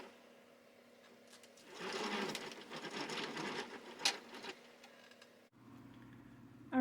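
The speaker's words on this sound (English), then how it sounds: "we have gotten that started on the ball winder" A yarn ball winder whirs as it winds yarn into a ball, with a rapid, steady mechanical rattle that rises for a few seconds over a low background hum, then stops.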